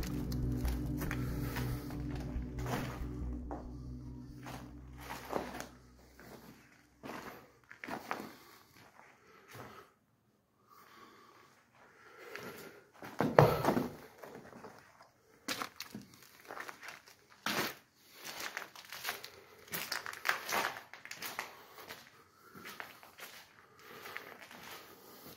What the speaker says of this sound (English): I don't like that crumbling noise underneath my feet.